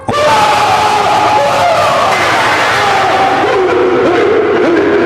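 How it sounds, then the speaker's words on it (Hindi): A loud, sustained scream-like wail rings out in a haunted castle scene, a dense continuous howl with shifting pitch that fills the whole few seconds without a break. "जैसे ही दरवाजा खुला एक तेज चीख गूंज उठी"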